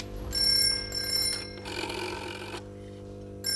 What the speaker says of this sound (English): the ringing phone bridges three scenes